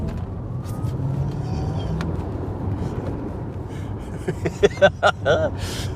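An Audi RS e-tron GT electric car accelerates uphill in dynamic mode, giving a steady low rumble of road and wind noise, with a few short breathy vocal sounds near the end.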